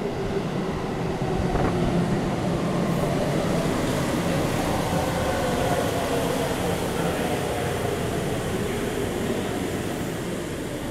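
A Sendai City Subway Namboku Line train running between stations, a steady loud rumble and rush of wheels and air heard from inside the car, unbroken for the whole stretch with no talk.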